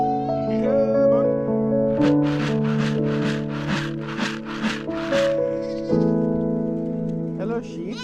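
Sheep on a small farm bleat in a run of repeated calls through the middle, fairly close, over a steady background hum and a person speaking.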